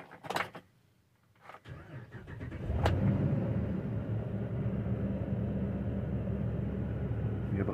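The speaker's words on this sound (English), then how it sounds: "Let's fire up the engine." Dodge Ram bucket truck with an Altec AT200A boom: a few clicks and a brief crank, then the engine catches near three seconds and settles into a steady idle.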